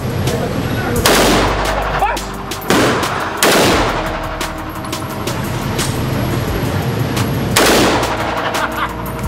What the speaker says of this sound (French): J'ai jamais tiré en automatique parce qu'en France c'est interdit.